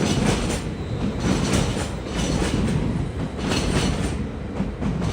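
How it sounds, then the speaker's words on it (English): Trains pass beneath a pedestrian bridge in Helsinki, a loud continuous rumble with rhythmic wheel clatter heard close, with no talk over it. "the pedestrian bridge is shaking when the trains are passing by under us"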